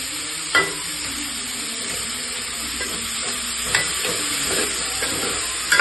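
Chilli chicken with capsicum frying in a pan, a steady bright sizzle with scraping stir strokes and a few sharp clanks of the spatula against the pan, close and continuous with no talking.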